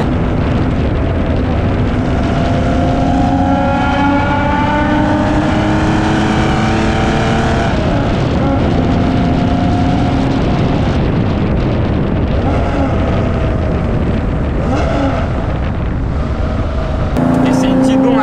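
A very loud, rare Porsche 911 engine revs hard, its tone climbing and falling through sweeping rises and drops, then sharp blips near the end, dominating everything at close range.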